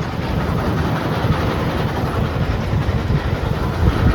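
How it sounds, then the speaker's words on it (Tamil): A small train rumbles steadily past close by, a continuous low clatter and roar that holds at the same level throughout, with no talking. "இதுதான் அந்த ட்ரெயின், ஸ்மால் ட்ரெயின்."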